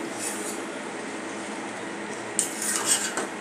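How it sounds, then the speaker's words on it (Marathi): Carrot halwa gets stirred in a thick-bottomed kadhai, with a soft steady cooking hiss and then a few scraping, clinking strokes of the spoon against the pan near the end. "असे आपण 5-5 मिनिटांनी आपण याला हलवून घ्यायचे, नाहीतर तो तळाला लागेल।"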